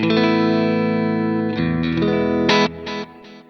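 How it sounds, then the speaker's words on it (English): A clean electric guitar through a Positive Grid Spark amplifier, effect off, plays a sustained chord, then several short strummed chords follow, loud and close with no effect coloring. "if I turn off the pedal, the guitar sounds like this"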